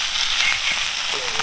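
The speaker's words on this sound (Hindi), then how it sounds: "देखिए हम लोग इतना मछली फ्राई कर लिए हैं" Fish fries in a pan with a soft, steady crackling sizzle, close and continuous, with no one talking over it.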